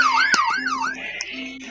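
Police siren in the Roblox game Brookhaven, a loud, close wail sweeping up and down in pitch, broken by a few sharp clicks, alone without talk.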